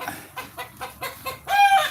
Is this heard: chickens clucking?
yes